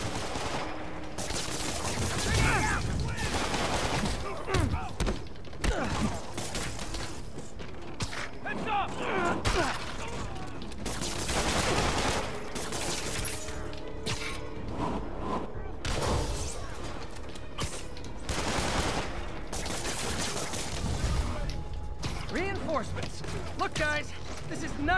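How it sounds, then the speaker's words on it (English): Repeated gunfire and rapid shots crack through a Marvel's Spider-Man street fight, bursts and single reports mixed with clanking mechanical noises, with voices talking throughout the action. "Spider-Man, I'm getting reports of shots fired."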